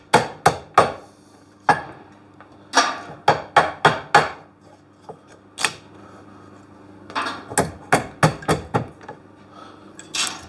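Sharp hammer blows knock offcut wood pieces loose in a workshop, a dozen or so close, loud impacts in irregular bursts with short pauses between.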